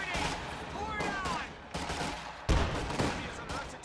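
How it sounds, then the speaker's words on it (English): Gunfire from a Company of Heroes battle, with bursts of rifle and machine-gun shots crackling alongside a radio-style voice calling out orders, plus a heavier thump near the middle. "Contact! Enemy fire!"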